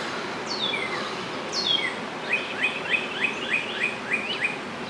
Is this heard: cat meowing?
no